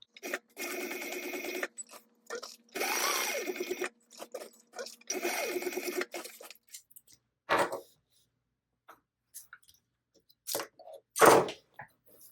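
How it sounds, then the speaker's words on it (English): A sewing machine stitches down an angled pocket in three sustained bursts of rapid stitching, followed by scattered handling clicks and a few sharp taps. "Now we're going to stitch this down onto the angled pocket."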